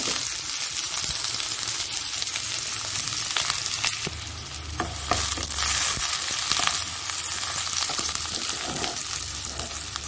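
Sliced onions dropped into a hot wok for a bean and potato curry fry with a loud, continuous sizzle, punctuated by sharp metallic clinks and scraping as they are stirred.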